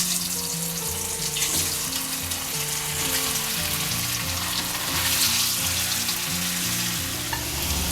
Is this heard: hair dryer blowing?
no